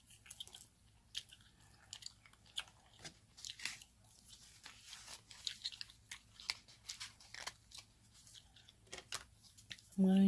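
Mint Bliss flavored gum being chewed close up, with soft repeated wet clicks, crunches and squishes at an irregular rhythm running through the whole stretch, fairly quiet, with no speech over it.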